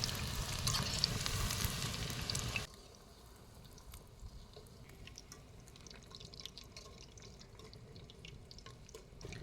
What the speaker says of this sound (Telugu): బయట ఎర్రగా అయిన తర్వాత బాగా వేయించుకోవాలి.